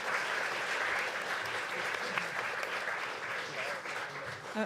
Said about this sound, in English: And for all the cartoonists, one more round of applause.